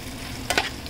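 Spices and egg stir-fried in a pan for shrimp pasta, a steady close sizzle with a brief burst of spatula scraping near the middle.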